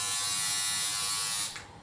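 An electric shaver, a Philips S3232 or a SOOCAS SO WHITE 3D, runs with a steady, close, high-pitched buzz for over a second before it winds down and switches off.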